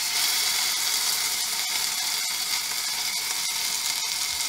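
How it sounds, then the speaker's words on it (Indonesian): Vegetables and anchovies sauté in a pan with a steady, dense sizzle and a few faint clicks of stirring. "Okay, we are going to saute until sampai dia berubah warna"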